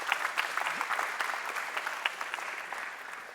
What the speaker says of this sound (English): Let's give all of our contestants a round of applause.